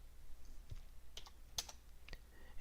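Commands tapped out on a computer keyboard in short, quiet bursts of a few clicky keystrokes with small gaps, faint against a low room hum.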